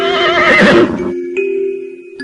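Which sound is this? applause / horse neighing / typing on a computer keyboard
horse neighing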